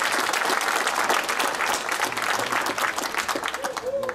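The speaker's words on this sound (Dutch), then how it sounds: "een daverend applaus voor beide vechters" Loud, dense applause from the crowd at a Fortitudo Fights event, clapping for both fighters after three hard rounds, steady and close throughout, with a voice briefly heard near the end.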